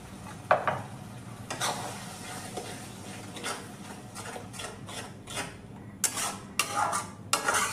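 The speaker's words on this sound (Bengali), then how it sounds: "এবার ফেটানো দইটা মশলার মধ্যে আমি অ্যাড করে দিচ্ছি।" Whisked yogurt is stirred into spice masala in a pan for doi katla, a spoon rasping and scraping against the metal in uneven strokes over a soft sizzle, with louder scrapes near the end.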